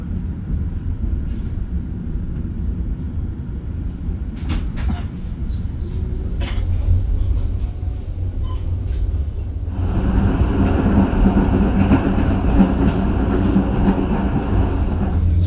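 The KA Ranggajati business-class train runs on rails between Jember and Cirebon, heard from inside as a steady low rumble and rolling drone. The rumble grows louder and brighter partway through, with no talking.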